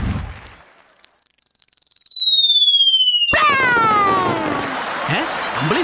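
A firecracker's comic launch and burst: a long descending whistle glides down for about three seconds, then a sharp bang breaks into a sputtering, wobbling fizz with warbling tones, loud and alone.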